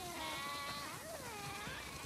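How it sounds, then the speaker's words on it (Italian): Many sheep bleat together in The Last of Us Part II, overlapping wavering cries layered into a steady, dense chorus close by with no break. "Wow, sono tantissime pecore!"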